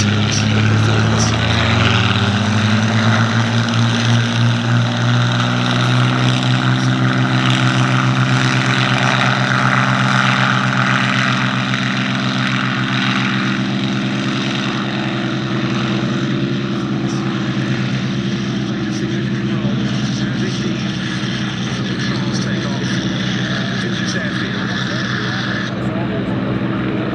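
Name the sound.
Mustang and Buchon propeller aircraft taxiing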